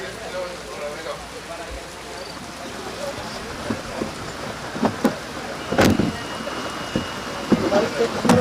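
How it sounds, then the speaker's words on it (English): Rain pours near a golf course grandstand at a championship in Acapulco, a steady hiss of drops on surfaces punctuated by several sharp close taps and knocks, with no talk. "that's just picking up even more rain"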